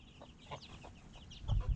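Chickens and chicks in a farmyard, with geese close by, give soft, faint clucks and peeps that come in scattered bursts and grow a little louder near the end.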